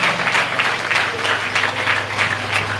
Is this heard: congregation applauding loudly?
yes